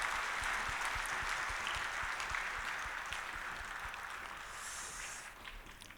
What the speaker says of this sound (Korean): 우리 임마누엘 찬양대 한번 격려의 박수 더 하겠습니다.